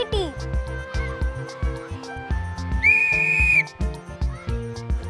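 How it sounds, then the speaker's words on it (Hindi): A toy whistle gives one sustained shrill blast in the middle of a busy passage of music, standing out loud and clear for about a second. "विसल को हिंदी में सीटी कहते हैं।"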